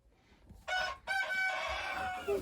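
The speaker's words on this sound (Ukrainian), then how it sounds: "курочка прийшла, співає, буде, мабуть, нестися" A hen in a winter coop sings before laying, giving a couple of loud, close, drawn-out clucking calls with a rising tone, separated by a short pause.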